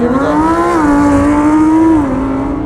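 A Lamborghini Huracan Performante and a Tesla Model S Performance launch in a drag race, the Lamborghini's loud engine note climbing through the revs with a gearshift dip, continuous and close for a few seconds.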